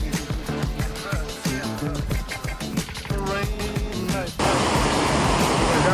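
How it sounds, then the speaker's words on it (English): A loud, constant roar of a waterfall suddenly takes over partway through, after a few seconds of a voice and other busy sound, in Glacier National Park. "then we came across these waterfalls"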